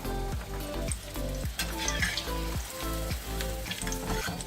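Corn cutlets frying in hot oil over a high flame give a loud, continuous close-up sizzle with bubbling crackle and occasional stirring clinks, and no voices.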